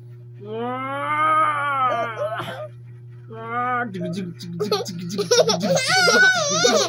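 A water buffalo (carabao) lets out drawn-out lowing calls, close by, with a few pauses between them and a steady low hum underneath.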